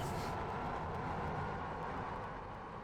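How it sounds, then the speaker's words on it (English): Metro train from the Metro Simulator game, an S-stock running on the Rijndam Line M4, giving a steady low rumble and roar that holds loud and even throughout with no break. "Obviously the train doesn't really sound like an S-stock."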